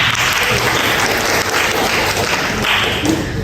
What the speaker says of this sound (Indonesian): Boleh tepuk tangan untuk para narasumber kita.